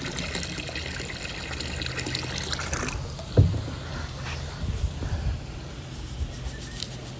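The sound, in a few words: pouring liquid chlorine into a swimming pool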